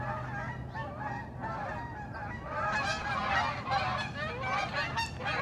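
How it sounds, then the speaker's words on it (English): A flock of Canada geese honks continuously as the birds arrive, many overlapping calls rising and falling at moderate distance, growing louder and busier midway, with no talking. "Looks like the Canada geese have arrived."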